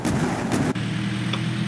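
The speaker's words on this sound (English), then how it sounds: "What is that? I heard explosions." Heavy explosions rumble in the video game Brick Rigs: loud, low, continuous booming with a sharp cut partway through, then a sustained deep roar, and no voices.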